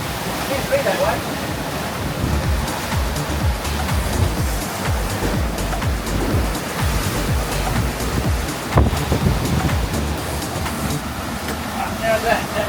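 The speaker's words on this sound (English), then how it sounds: "This Wind is crazy." Strong wind roars around a sailing boat in 25 to 30 knot conditions as waves wash and slap against the hull, a loud steady rush with surging swells, and people talk over it.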